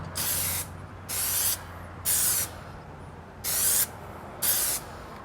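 Black Plasti Dip sprayed from an aerosol can onto car emblems in five short, close hissing bursts with brief pauses between them, no voices.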